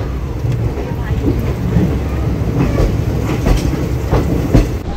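The Amaravati Express rolls along near Dudhsagar waterfalls, heard from on board as a loud, continuous rumble and rattle of wheels on track, dense and close, with no clear speech over it.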